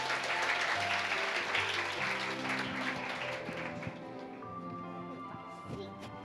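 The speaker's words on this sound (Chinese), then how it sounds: "掌声欢迎。" Audience applause fills a hall during a children's drama summer camp presentation at a church service, a steady dense clapping that carries on throughout with some voices and music-like tones beneath it.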